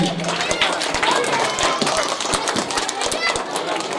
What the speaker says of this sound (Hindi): बेटे शालपोशी करते वक्त जोरदार तालियां होनी चाहिए।